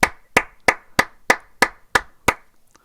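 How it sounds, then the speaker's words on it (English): Small group clapping in a slow, even rhythm after a song in a music listening session: eight crisp, close handclaps spaced evenly, then silence. "let's give a round of applause"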